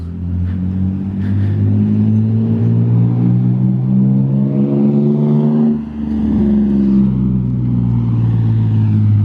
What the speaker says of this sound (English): Do you hear the only VQ on the face of the planet that doesn't sound like a VQ?